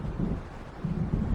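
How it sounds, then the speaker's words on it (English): Thunder from an approaching storm rolls in the Alan Wake game in low, soft rumbling swells, faint and distant, with a hint of wind and rain beneath. "It seems there's a storm coming."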